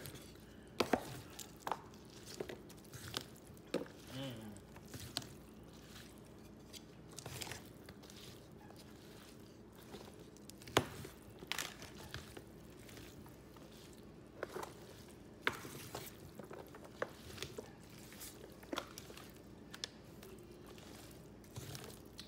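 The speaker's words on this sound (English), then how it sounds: "I'm gonna toss in some fresh parsley just want to give this a big stir" Greek pasta salad with feta and fresh parsley is stirred in a bowl, making quiet, irregular wet clacks and squishes throughout, with no voices.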